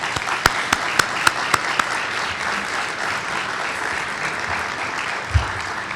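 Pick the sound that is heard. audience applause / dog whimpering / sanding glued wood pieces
audience applause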